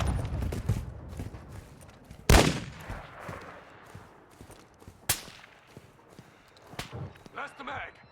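Gunfire in the video game Call of Duty: Modern Warfare 2, with sharp single shots and short bursts, some loud and close and others distant, over a low background of in-game ambience.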